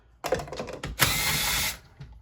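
An impact driver with a 5/16 or 8mm driver removes handle and tank bolts, giving a short whirring burst, a brief pause, then a louder sustained rattling hammer that stops abruptly, close and alone.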